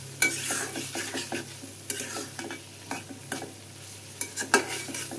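Shrimp cooking with coconut in a pan in a Barisal-style dish, with a steady sizzle broken by frequent sharp scrapes and clicks of a stirring spoon, close up and with no talking.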